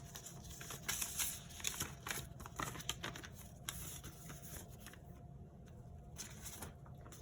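Cash bills rustle and shuffle as they are stuffed into paper sinking fund envelopes, a steady close patter of paper handling with soft slides and taps.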